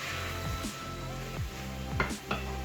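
Vegetables for a spicy masala chicken pasta sautéing briefly in a pan, with repeated stirring scrapes of a utensil against the metal over a soft, steady sizzle, close and moderately loud.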